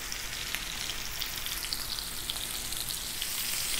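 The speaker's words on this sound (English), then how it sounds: "it's a pretty thick steak right here. We're probably gonna cook about 4 minutes a side" A thick steak fries in a pan, giving a steady, hissing sizzle with faint crackles and pops throughout, close and even, with no voices.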